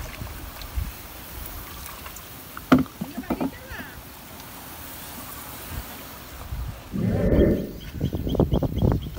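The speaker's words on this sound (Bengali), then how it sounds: "গ্রামে আসার পরে আমরা এখন পানির ভিতরে আনছি, পানির ভিতরে আইছি নৌকায়।" A boat is rowed through village floodwater among water lilies, with the oars dipping and splashing in bursts, loudest near the end, over a faint outdoor background of wind and birds.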